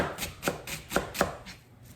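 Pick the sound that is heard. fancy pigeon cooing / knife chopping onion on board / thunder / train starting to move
knife chopping onion on board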